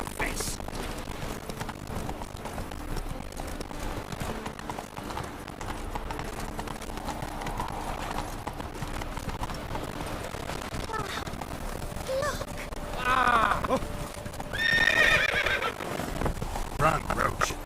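Roach, the horse in the video game Witcher 3, gallops in a steady run of hoofbeats over low game ambience, with a couple of louder whinnies and snorts near the end.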